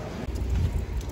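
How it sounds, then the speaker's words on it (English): Rain falls at the Fontana race track in Southern California as NASCAR teams unload equipment, a brief steady wash of rain noise with a low rumble beneath. "It is, of course, raining."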